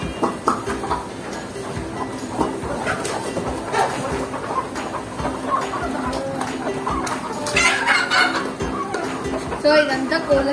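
Chickens cluck intermittently around a small dairy farm that also keeps cows and buffaloes. Scattered soft bird calls sit among general farmyard noise for about ten seconds.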